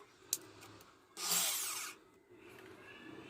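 A brief burst of power drilling on a pipe-frame quadcopter build, high and whining, lasting under a second amid quiet workshop clatter.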